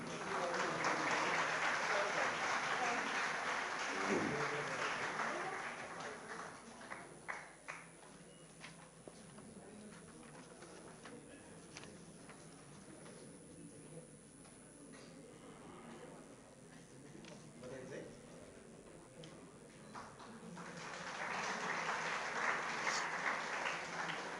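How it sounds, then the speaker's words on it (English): Conference audience breaks into applause, a broad clapping wash at the start that fades to scattered claps and shuffling, then swells again into loud applause at the end. "A big round of applause, please."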